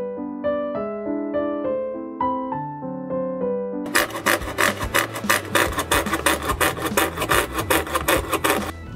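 A handsaw with a thick wood-cutting blade cuts through a cardboard tube, giving fast, rhythmic rasping strokes that are close and loud, following a stretch of plucked musical notes.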